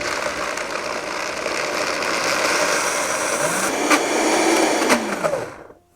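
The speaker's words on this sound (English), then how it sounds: "Start the blender." A blender whirs steadily as it grinds two cups of peanuts into peanut butter, its motor pitch rising midway as the load shifts, then cutting off abruptly at the end.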